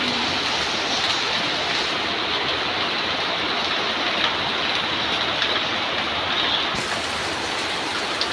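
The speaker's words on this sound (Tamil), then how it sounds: "பாருங்க நல்ல மின்னலும் இடியுடன் கூடிய மழை" Steady rain pours down during a thunderstorm with lightning, a dense, even hiss that stays loud and unbroken throughout, with no voices present.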